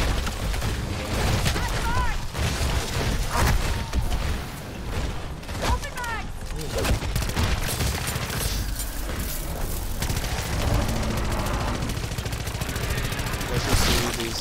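Rapid SMG fire in MW3 Zombies, dense bursts of automatic shots layered with explosions and game effects, loud and continuous, with someone talking over the action.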